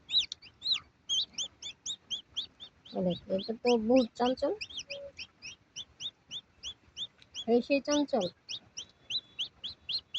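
Newly hatched chicks peeping in rapid, high, repeated chirps close by, almost continuous, while a person talks over them in two short bursts.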